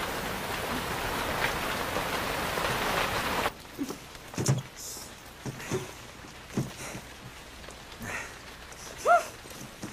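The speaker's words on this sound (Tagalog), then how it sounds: "Ang lakas na ng ulan, no?" Heavy rain during a film scene beats down as a dense, loud, continuous roar for several seconds, then drops away to muffled patter beneath scattered knocks and movement.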